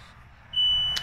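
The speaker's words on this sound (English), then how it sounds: "That's the smoke alarm." A smoke alarm indoors gives a single sustained high electronic beep lasting about half a second, close and fairly loud over a low room hum, with no talking.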